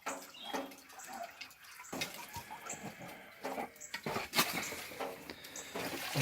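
Water sloshes and splashes inside a washing machine on its rinse cycle with four pairs of jeans and cargo pants, faint irregular swishes and drips, no voices.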